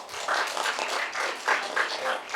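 Applause at an intern farewell ceremony for Pulse Magazine: a small group clapping in quick, uneven bursts, moderately close and fairly brief.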